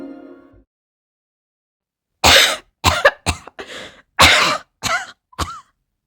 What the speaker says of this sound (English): In the darkness, Samponi coughed.